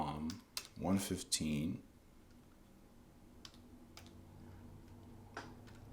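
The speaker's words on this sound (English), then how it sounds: "let's type in the name of the verse" A person speaks briefly, then scattered light clicks of computer keyboard typing follow, sparse keystrokes heard close and fairly quiet against a soft background.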